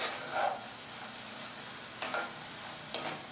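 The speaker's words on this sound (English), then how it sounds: "I'll give that a stir" Diced zucchini and eggplant fry in oil as a spoon stirs them, giving a soft steady sizzle with three brief scraping strokes spaced across the clip, fairly quiet and close.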